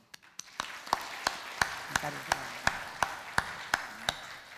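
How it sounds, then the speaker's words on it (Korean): Slow, evenly spaced claps ring out in a church after a baptism, about a dozen sharp separate strikes with a reverberant tail, fairly quiet and steady in rhythm. "박수"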